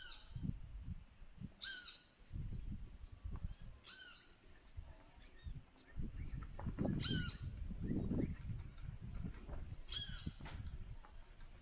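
Birds calling outdoors in Costa Rica, with repeated sharp high calls and chirps standing out over a low rumbling background, moderately near and fairly quiet.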